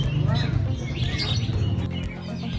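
Many songbirds chirp and tweet overlapping at an outdoor bird-singing contest in Melajah, Bangkalan, Madura, held for Indonesian Independence Day, with a steady crowd murmur and a voice talking underneath.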